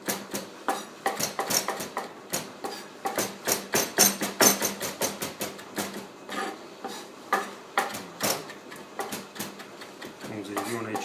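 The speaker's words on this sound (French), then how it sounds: "nous allons incorporer le persil. On va le hacher très finement." A knife finely chops flat-leaf parsley on a board, a steady, brisk run of crisp, close taps at roughly three strokes per second that continues throughout.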